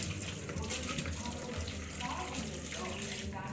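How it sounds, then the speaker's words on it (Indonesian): Steady, close running and sloshing water during a second rinse, a continuous wash of splashing with no spoken words. "Nah, baru ini bilasan yang kedua. Kita bilas seperti ini."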